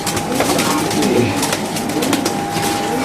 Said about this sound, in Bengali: মাশাআল্লাহ দেখেন কবুতরটা দেখেন